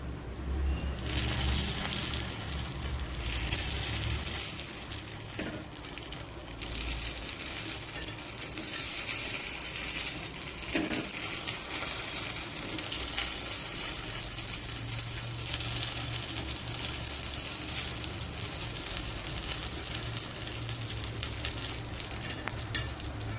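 Karupatti kuzhi paniyaram, palm-jaggery dumplings, frying in oil inside a covered pan, giving a steady, moderately loud sizzle that runs unbroken throughout with faint low rumbling beneath and no voices.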